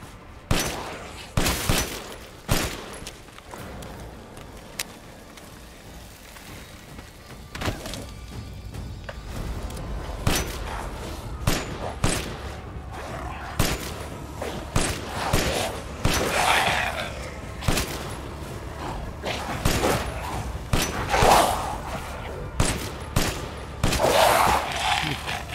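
Gunfire in the video game Resident Evil Village: a long series of sharp, loud shots, some in quick bursts and others spaced apart, with heavy impacts and crashes between them and no speech.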